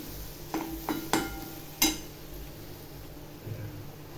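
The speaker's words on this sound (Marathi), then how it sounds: "चांगलं तेल सुटस्तवर लो टू मिडियमवर परतून घ्यायचं हे बघा मसाला चांगला असा परतलेला आहे" Masala sautéing in oil over low-medium heat for a spiced peas and paneer curry, a soft steady sizzle with several sharp scrapes and clinks of a spoon stirring against the pan, heard up close without talk.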